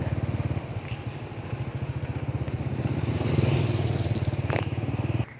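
A motorcycle ridden along a road near a market, its engine putting out a steady close rhythmic thrum that swells slightly midway, with no voices.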